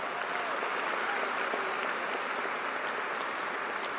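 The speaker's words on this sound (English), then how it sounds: "Let's please give Dakota and his family a round of applause." A crowd at a high school graduation ceremony claps for a graduating student and his family, a dense, even wash of applause heard from some distance and holding steady for the whole stretch.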